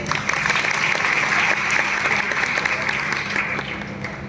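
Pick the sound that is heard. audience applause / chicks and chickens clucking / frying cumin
audience applause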